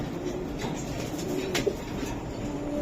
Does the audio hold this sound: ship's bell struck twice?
no